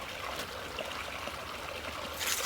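Water trickles and drips off a sheet of wet wax paper as it is shaken out, a soft continuous splatter that grows louder in a brief burst at the end.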